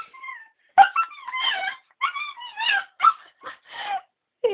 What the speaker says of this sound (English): bark at the water, it'll come out at you